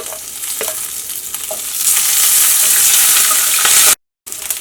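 Green chillies, ginger and garlic sizzling loudly in a hot pan of oil for a Kerala chicken stew, a steady close frying hiss that swells as the ingredients settle, with faint stirring clicks.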